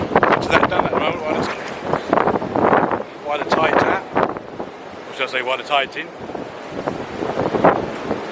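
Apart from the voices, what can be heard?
strong wind on the beach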